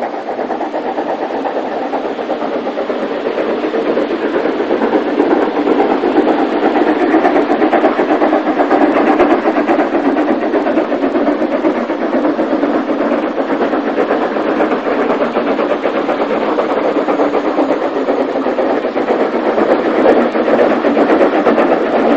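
Two steam locomotives, 53807 and 44558, hauling a railway society special up a 1 in 50 gradient on the Somerset & Dorset line, a loud, continuous engine roar with rumbling wheels, steady and close for the whole stretch.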